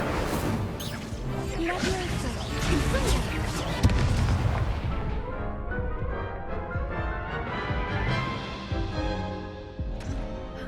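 Blasts of the Incendio fire spell in the Hogwarts Legacy game, a run of loud crackling bursts and booming impacts early on that tapers into fainter ringing effects, with speech present.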